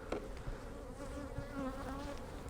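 Honey bees buzz steadily at an open hive, a faint, dense drone of many wings close by with no voices.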